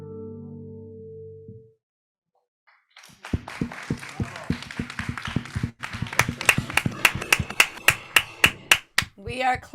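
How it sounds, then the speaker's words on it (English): Applause from a group at an online Jewish Disability Awareness and Inclusion Month gathering, steady clapping that builds into sharp, evenly spaced claps, loud and close, after a brief silence. "We are clapping for you from across the world."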